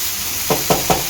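Onions and chillies sizzle steadily in a hot pan while a utensil stirs them three times in a quick, even rhythm, close up.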